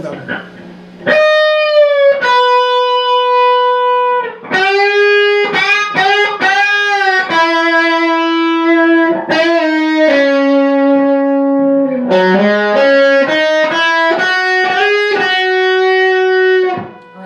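A sustained, buzzy distorted electric guitar plays a melodic solo line of held notes and slides, loud and upfront, with brief gaps between phrases.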